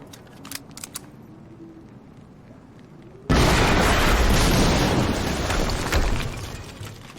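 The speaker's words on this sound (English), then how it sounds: "we just heard an explosion near the harvesting perimeter" A sudden loud blast booms out in the Quantum Break video game after a few faint clicks. It holds as a broad, roaring rumble for several seconds before fading slightly.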